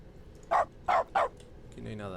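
A voice imitates a dog barking: three short, loud woofs in quick succession, followed by a quieter tonal hum and faint background noise.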